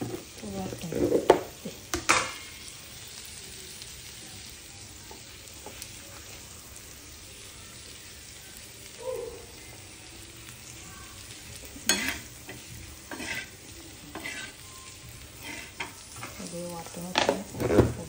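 Dried coconut masala paste hits a hot pan with a soft, steady sizzle, broken by scattered stirring scrapes and clatters, some louder bursts near the start and end.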